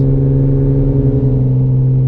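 A 1970 Jaguar E-Type sports car engine revving steadily, loud and close, with a deep rumbling tone and no talking.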